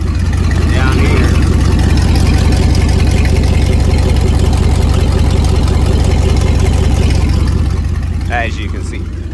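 A Dodge Dakota R/T engine runs continuously, a loud, close, steady low rumble with a rhythmic pulse, while someone talks over it.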